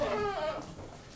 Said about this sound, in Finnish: tätä määkimistä.